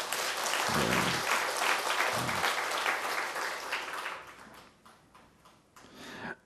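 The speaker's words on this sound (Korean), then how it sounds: "박수 한번 쳐봐요, 박수." Church congregation applauding, a full round of clapping that stays strong for several seconds, then thins and fades as it dies away, with a brief low voice early on.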